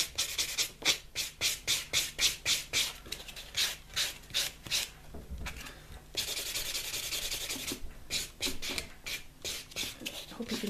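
White buffer block rubbing over acrylic nails, a series of quick, rhythmic scratchy strokes with brief pauses between bursts, close and fairly quiet, with one longer continuous stretch of buffing partway through.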